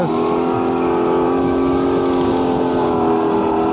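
Go-kart engine droning steadily at high revs on an indoor track, loud and close, a continuous buzzing whine with slight pitch shifts as the throttle eases, no talking.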